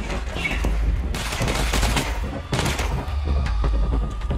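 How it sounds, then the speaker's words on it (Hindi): Rapid gunfire in the video game Control Ultimate Edition crackles in dense bursts, loud and continuous, with heavy thumps underneath and brief lulls between volleys. "चली चली चली गोलियां चली"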